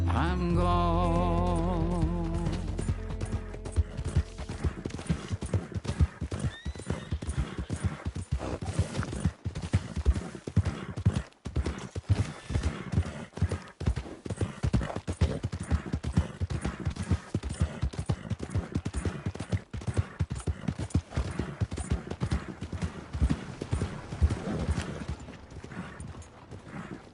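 Horse hooves clip-clop steadily in Red Dead Redemption 2, a rhythmic trotting gait close by over a low rumbling backdrop, after a short bit of music at the start.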